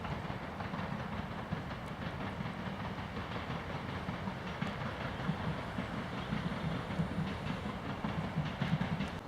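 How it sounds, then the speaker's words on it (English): A train rumbles past in the distance across open fields near Shiplake, a continuous low rolling drone with faint rhythmic clatter, steady throughout and heard from afar in the open air. "As my train in the distance there"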